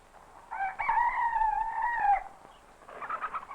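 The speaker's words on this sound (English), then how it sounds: "The chickens are coming down from their roost." A rooster crows on a farm in the early morning as chickens come down from their roost, one long clear crow standing out, followed by a short burst of chicken clucking.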